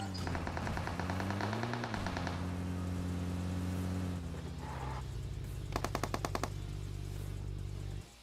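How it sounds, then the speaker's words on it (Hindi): Gunfire from a player in PUBG Mobile on the Rozhok hill area of the Erangel map, heard as two rapid automatic bursts, the first running under a steady engine drone and the second sharp and close after a pause. "क्योंकि यार एक ही बंदा गोली चला रहा था"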